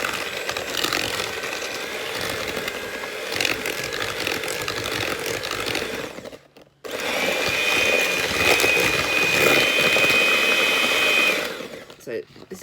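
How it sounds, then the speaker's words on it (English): Electric whisk beating dairy-free brownie batter in a home kitchen, a steady buzzing motor whir that cuts out briefly midway, then resumes with a thin high whine before stopping. "if you've got an electric whisk, that's going to be better"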